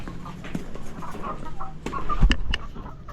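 Several backyard chickens cluck and squawk nearby in a busy, irregular chorus, with a few sharper clucks standing out near the end.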